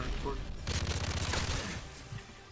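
A UMP submachine gun fires in a video game: a quick burst of rapid, evenly spaced shots in the middle, heard over ongoing game noise with someone talking nearby.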